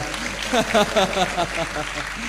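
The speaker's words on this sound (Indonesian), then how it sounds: "Berikan tepuk tangan yang meriah bagi Tuhan kita." Church congregation clapping and applauding in bursts over a steady crowd murmur, with voices mixed in, fairly loud and close.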